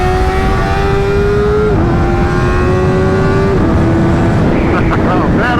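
A Kawasaki ZX-4R motorcycle engine revs hard while being ridden, a loud, steady high-pitched drone that shifts pitch as it changes gear, with strong wind noise throughout.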